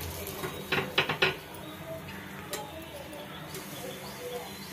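A corn appam is flipped in a metal appe pan, a quick cluster of light metallic clinks and scrapes around the one-second mark, then a quiet, faintly noisy kitchen background.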